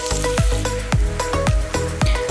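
Onions and garlic sauté in a pan for urundai kulambu, giving a loud, close sizzle with rhythmic scraping strokes of stirring roughly every half second.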